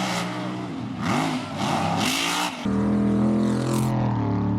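Off-road mega trucks race heads-up in a two-truck Premier Mega Truck Racing drag to the finish line, their engines roaring loud and steady with a surge of revving midway and a sustained heavy drone toward the end, no talk.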